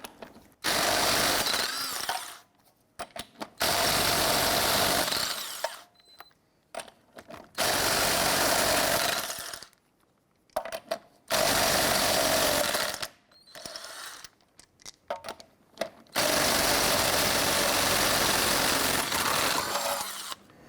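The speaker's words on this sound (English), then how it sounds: "Using your 19mm socket, loosen and remove the lug nuts." Power tool with a 19mm socket loosening and removing lug nuts on a 1999-2004 Jeep Grand Cherokee, four long, loud whirring bursts of two to four seconds each, separated by brief pauses.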